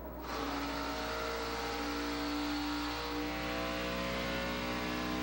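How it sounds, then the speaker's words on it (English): Pack of stock race cars accelerating at the 2013 Daytona 500, a dense continuous engine roar with layered rising tones that swells quickly and holds loud and steady, heard from nearby with no talking. "Building from 70-mile-an-hour pace car speed. up to 190 miles an hour by the time they hit turn 3, and Johnson's in command."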